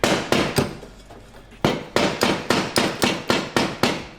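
Sharp metallic hammer taps strike a polyurethane subframe bushing on a Lexus IS300 subframe to rotate it, about a dozen crisp, close blows, first spaced and then in a quick, even rhythm.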